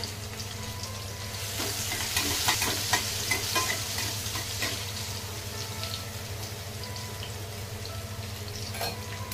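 Garlic frying in a pan while greens are cooked, a steady close sizzle with occasional stirring scrapes and light clinks, continuous throughout with no talking.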